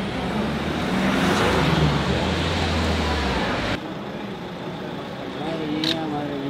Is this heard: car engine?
yes